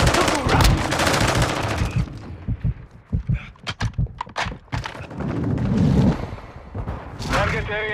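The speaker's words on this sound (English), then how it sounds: "Heavy precision airstrike inbound." Gunfire and airstrike explosions in a shooter video game, with a burst of sharp, rapid bangs and booms in the middle, set between stretches of louder game audio and voice lines.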